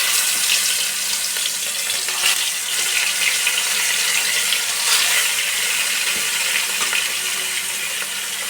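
Rohu fish pieces fry in hot oil, a loud continuous sizzle with crackling bursts, close and unbroken, with no talk.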